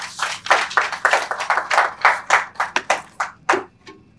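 Audience at a horticultural expo in Accra bursting into applause, a dense burst of hand claps that rises, holds steady and then thins out into a few scattered claps before fading.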